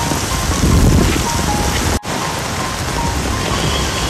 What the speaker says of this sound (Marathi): पाऊस आणि वारा एवढा प्रचंड लागतोय ना